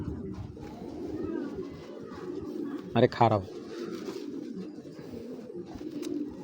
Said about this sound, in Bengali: মাশাআল্লাহ মাদি কবুতর ভাই এটা